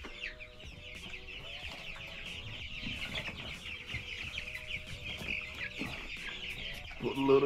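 A flock of young chickens on a cattle farm clucks and chirps busily at close range during feeding, with scattered pecking and clatter underneath.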